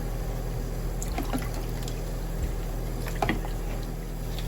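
Water trickles and splashes while orchid plants are watered indoors, a soft steady flow over a low hum with a few faint drips and spatters, no speech.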